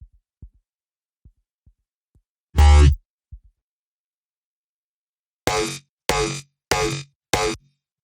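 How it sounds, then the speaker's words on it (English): Aggressive bass sound processed by the VINAI XTT plugin's bass saturator preset: soft low thumps, then one loud distorted boom, then four evenly spaced loud gritty bass hits, with no talk. "let's hear what our bass saturator preset does to it"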